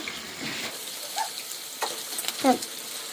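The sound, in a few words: chicken meat added to hot spiced oil, frying and sizzling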